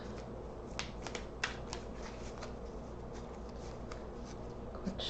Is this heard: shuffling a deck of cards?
yes